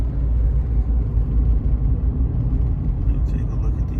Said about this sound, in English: we're out, we're driving this RAV4